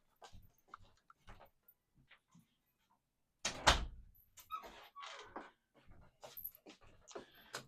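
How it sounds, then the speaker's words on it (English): A door swings and bangs shut indoors with a loud thump, amid scattered quiet clicks, shuffling and a dog panting nearby. "Let me shut this door."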